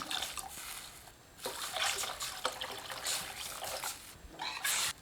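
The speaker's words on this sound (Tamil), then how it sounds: "இது கூட தேவையான அளவுக்கு தண்ணி சேர்த்துக்கலாம்" Water splashes and trickles in uneven bursts into a pan for rasam, a soft liquid pouring sound close by, fairly quiet throughout.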